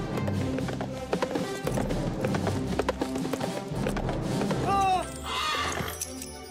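A galloping horse, rapid hoofbeats under lively music, then a bright rising flourish and a burst of noise near the end.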